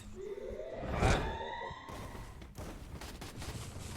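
Gunfire in the Free Fire video game, a burst of close shots with ringing tonal tails followed by a scattered crackle of distant fire, with no talking.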